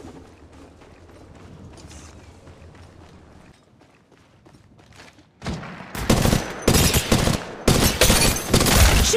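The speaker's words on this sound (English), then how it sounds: "Shooting! Reloading!" Rapid, loud automatic gunfire in the Apex Legends Mobile video game breaks out after a quieter stretch of footsteps and mechanical clicks, with sustained bursts filling the second half.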